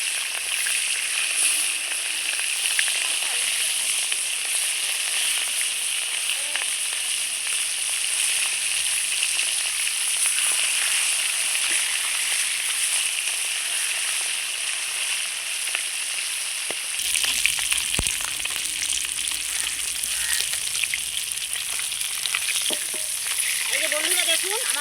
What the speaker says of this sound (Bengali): দেখুন আমার মাছটা কত সুন্দর ভাজা হয়ে গেছে, একদম লাল লাল করে খুব সুন্দর করে ভেজে নিয়েছি